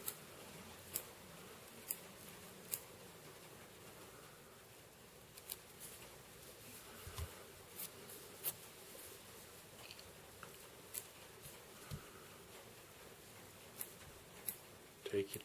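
Small scissors trim material while a salmon muddler fly is tied, sounding as scattered faint snips and clicks every second or so over a quiet room, with soft speech in places.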